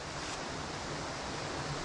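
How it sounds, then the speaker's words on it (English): A small waterfall in woodland gives a steady, even rush of falling water, continuous and moderately close, with no voices over it. "Got a nice little waterfall down here."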